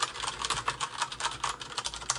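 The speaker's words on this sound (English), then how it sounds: "It's the first time I've ever touched a mechanical keyboard" Steady, fairly close clatter of keys being typed on a mechanical keyboard with tactile switches, a continuous run of crisp clicks and thocks with no voices.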